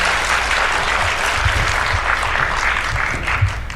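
Sustained, fairly loud audience applause greets a TV actress invited on stage during a radio program recording, steady clapping with a dull low rumble beneath and no talking.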